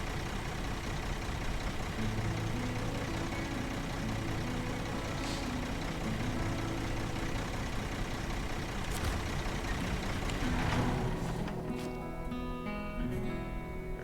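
A truck engine in the SnowRunner video game, Yukon map, running steadily with a low continuous drone and faint hiss bursts, alone without talk.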